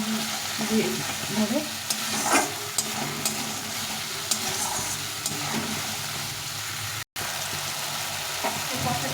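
Masala seasoned with radhuni spice frying with drumsticks in oil, a dense continuous sizzle with occasional stirring scrapes of a spoon, close and steady, with a brief cut near the end and no talking.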